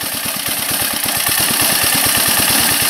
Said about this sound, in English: But look at it idling now.